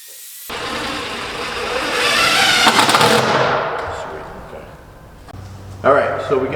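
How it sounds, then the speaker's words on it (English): A 4-inch angle grinder whirs up to a loud, harsh whine, holds for a few seconds, then winds down, with a second short burst near the end. "I'm just going to use a 4-inch grinder."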